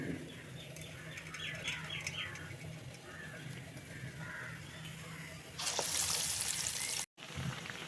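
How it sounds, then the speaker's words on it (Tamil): Banana flower vadas sizzle in hot oil with a steady, close crackling hiss that swells louder near the end, while faint bird chirps sound in the background. "வடை மாதிரி தட்டி நம்ம ஆயிலில் ஃப்ரை பண்ணுவோம்"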